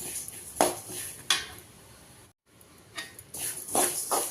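Sesame seeds are stirred while roasting in a pan, giving close, intermittent scrapes and light clinks of a utensil against the metal, with a brief pause before the scraping resumes; no one speaks.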